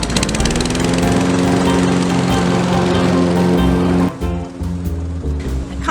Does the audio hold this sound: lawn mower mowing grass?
yes